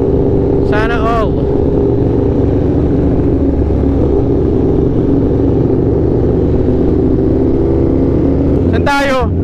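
Superbike exhaust droning loud and close at a car meet, a continuous engine rumble with voices talking over it throughout.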